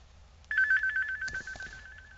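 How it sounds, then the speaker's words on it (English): A phone ringtone sounds once, a clear warbling electronic tone starting after a short quiet moment and sustaining to the end, with faint background noise. "Phone's still blowing up."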